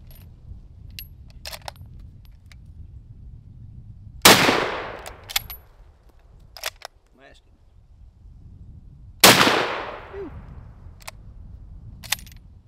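Gunshots at a shooting range, two loud sharp reports several seconds apart with echoing decay, set against quiet outdoor ambience, faint clicks and occasional voices.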